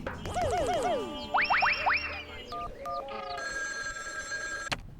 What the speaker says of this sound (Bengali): চল একটু আড়ালে গিয়ে চিমটির মামিকে ফোন করে জানাই।